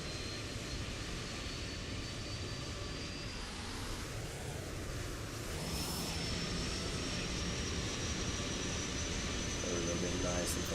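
Auxiliary power unit of an Airbus A350-1000 running in Microsoft Flight Simulator, a constant whining turbine drone with a high steady tone, holding level throughout with a brief swell midway.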